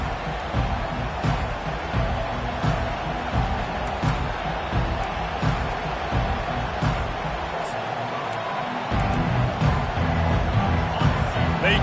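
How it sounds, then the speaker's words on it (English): Dense crowd roar and cheering in a college football video game featuring Clemson at a kickoff, a steady loud wash of stadium noise throughout with slight swells and no clear speech. "They challenge this crowd to bring the energy, and I'd say they're doing that."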